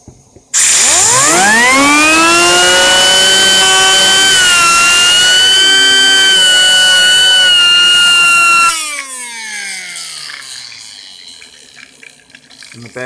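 A homemade Tesla turbine, its spacer bearing freshly sprayed with WD-40, spins up on 90 psi compressed air with a loud rising whine and steady harmonics that hold for several seconds, then cut off and fade as it coasts down.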